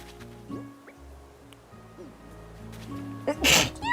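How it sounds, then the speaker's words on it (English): One loud, abrupt sneeze near the end, preceded by a quick sharp inhale, with faint ambient sounds before it. "I have to sneeze."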